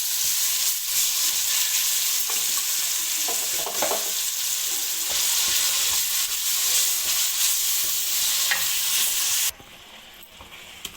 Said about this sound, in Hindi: 2 से 3 मिनट इसको फ्राई करने के बाद हम इसमें साग ऐड कर देंगे।